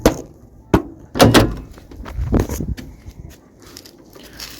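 Door clunks and latch clicks on a restored custom 1949 Chevrolet 3100 pickup with suicide doors, several sharp close thumps and creaks spread over a few seconds with no one talking.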